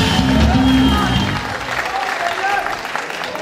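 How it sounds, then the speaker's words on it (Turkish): An audience at a Linz Ülkü Ocakları 20th-anniversary celebration claps loudly and continuously, a dense applause that fades slightly toward the end. "güzel bir alkış rica ediyorum"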